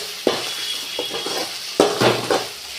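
Tomato sautéing in a pan for mutton curry, with a soft sizzle and a few scraping stirs of a spoon against the pan, close and quiet.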